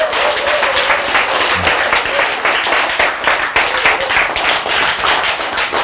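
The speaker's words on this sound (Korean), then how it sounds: "박수." Dense audience applause at a philosophy lecture fills the whole stretch, steady and loud, with a brief lull near the middle before the clapping continues.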